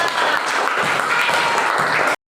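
Fourth-grade pupils in a primary school classroom burst into loud, brisk applause for a classmate named Sina, a dense patter of small hands that stops abruptly at the end.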